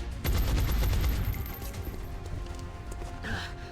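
A soldier's shot fires in the turn-based strategy game XCOM: Enemy Within, a loud burst of gunfire with rapid cracks up front that trail into a rumbling decay and a fainter flourish near the end.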